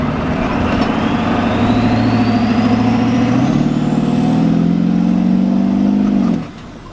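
A 7.3 Powerstroke diesel truck with a downpipe and 5-inch exhaust pulls hard, a loud steady engine roar with a turbo whistle rising in pitch throughout, ending abruptly as the throttle lifts.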